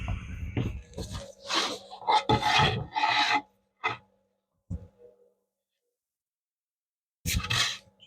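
Finish being rubbed by hand into raw oak for a wall clock build, heard as several close rasping, scrubbing bursts followed by a long quiet gap and one last rubbing burst.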